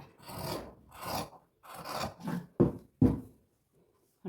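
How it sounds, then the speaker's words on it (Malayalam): Scissors snip through bra fabric at close range in a series of short, dry cuts with quiet gaps between them. "ഇങ്ങനെ വെട്ടിയെടുക്കുന്നു. ഇനി ഇവിടുന്ന് ഇതുപോലെ വെട്ടും."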